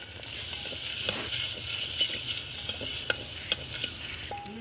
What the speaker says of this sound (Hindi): अब हमने लहसुन अदरक का पेस्ट डाल के इसको थोड़ा सा भूनेंगे।